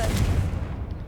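A Confringo spell explosion erupts in Hogwarts Legacy, a loud, close, booming blast with deep rumbling that decays quickly over about a second.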